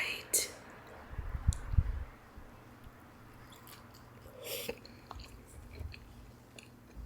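Close, wet chewing and crunching of loaded fries, a few bursts of biting and mastication near the mic, with soft whispering between bites.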